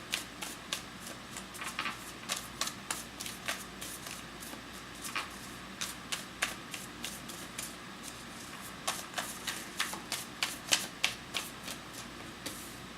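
Tarot cards being shuffled close by, a quick run of papery riffles and soft slaps repeating in uneven bursts, with no one talking.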